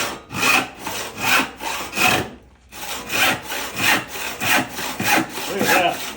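An Atkins No. 69 handsaw, freshly filed, cutting through 4/4 sawn white oak in steady rhythmic strokes, about ten rasping pushes with a brief pause partway, close and loud with no speech.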